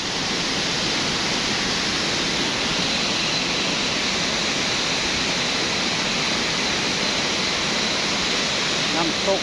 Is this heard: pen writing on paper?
no